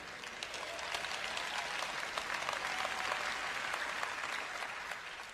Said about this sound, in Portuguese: Eu tenho uma senhora aqui aplaudindo, aplauda mais alto, por favor.